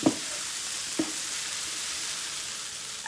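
Steady, faint sizzling of brown rice in a pan on a switched-off stove, with a few soft clinks of a utensil stirring at the start and near the end.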